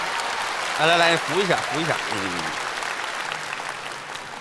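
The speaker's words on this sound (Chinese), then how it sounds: "再次把掌声送给我们带来精彩表演的倪萍老师" A comedy show audience applauds after a stage performance. Broad clapping swells briefly at first, then runs on steadily beneath a few spoken words as a performer is helped to her seat.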